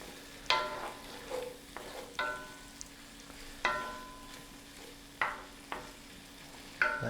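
Shrimp sizzling in a hot pan over coals, a steady frying hiss broken every second or so by sharp scraping stirs, close and alone with no talk.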